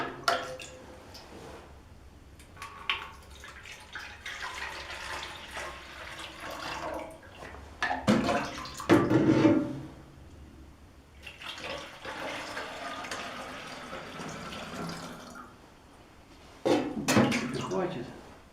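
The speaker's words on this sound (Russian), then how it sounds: "Так, набираем вот водички." Water running into a garden pressure sprayer tank, a steady splashing flow in bursts with pauses, moderately close, while a person talks over it.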